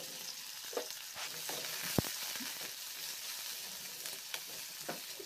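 Chopped onions and green chilies frying in leftover fish oil give a soft, steady sizzle with faint stirring scrapes and one sharp knock near the middle, quiet and close, with no talk.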